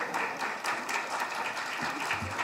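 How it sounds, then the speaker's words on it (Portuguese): A seated audience applauding a speaker, producing dense continuous clapping at a steady moderate level throughout with no voices on top. "Vamos lá, com a salva de palmas que ele merece."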